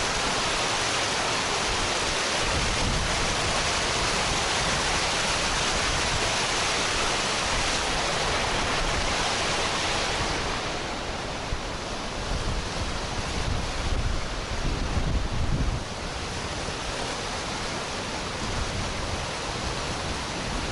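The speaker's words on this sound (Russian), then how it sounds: "посмотреть, насколько сильный идет поток в данный момент у этой реки Кача" The Kacha River in Crimea rushes strongly beneath a bridge, a constant broadband roar of fast water that stays loud and unbroken throughout, easing only slightly partway through.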